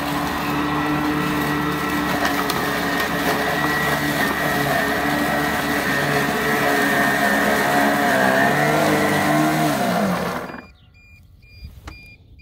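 Greenworks Pro 80-volt dual-blade battery lawn mower running with turbo on through thick grass, a loud steady whirring drone with a slight rise near the end before cutting off abruptly and leaving near silence.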